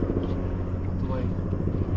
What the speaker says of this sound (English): There's that frickin' chopper again.